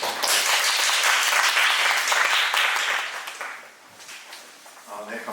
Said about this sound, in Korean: 따뜻한 박수로 환영해 주시기 바랍니다.